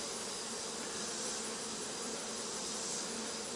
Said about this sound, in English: I brush these bees off, and I really don't like to brush the queen